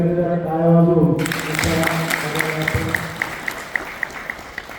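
Audience applause at an agricultural fair in Tinhewadi where women staged a street play; a voice speaks briefly, then a crowd breaks into steady, sustained clapping.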